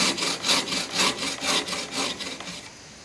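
A hand saw cuts through wood for a dovetail joint in woodland furniture making, with about six steady back-and-forth strokes rasping close by and no talking.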